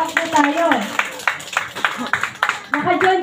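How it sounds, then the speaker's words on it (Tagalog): Guests at a family reunion clap in a room, uneven bursts of nearby handclaps rising and falling in short waves, with voices talking over them. "Sige po, palakpak po tayo."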